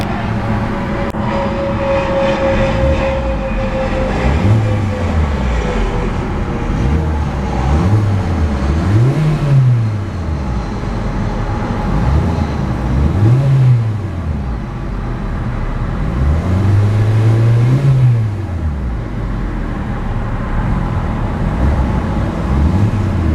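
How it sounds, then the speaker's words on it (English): A small 1.6-liter four-cylinder engine in a 2014 Hyundai Accent SE hatchback revs up and down several times, rising and falling in pitch, with a rough exhaust note between blips. "very beautiful and quite peppy exhaust note from that little 4-cylinder power plant"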